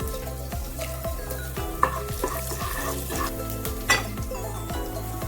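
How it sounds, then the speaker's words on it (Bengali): Asafoetida dropped into hot oil for homemade dhokla gives a steady close sizzle and fry, with a few scrapes and light clinks of a utensil against the pan and no voices. "এর মধ্যে আমি অল্প পরিমাণে একটু হিং অ্যাড করছি"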